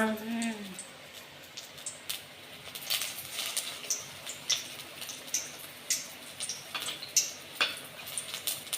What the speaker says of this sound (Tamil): இப்போ அப்படியே எடுத்து எண்ணெயில் போட்டுற வேண்டியதுதான்